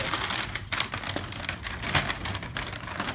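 Outer plastic wrapping bag for a welcome gift basket is unfolded, giving a steady run of crinkly rustling with sharper crackles throughout, close and fairly loud.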